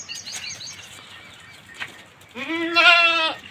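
A pregnant goat lets out one long, wavering bleat close by, following a stretch of quieter rustling and a faint high whistle-like noise.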